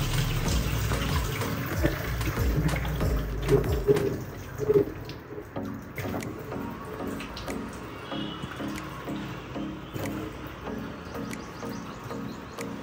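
Soaked rice being strained, with water pouring and trickling away while cooking; a steady, close splashing flow that is loud at first and then eases into lighter drips and trickles.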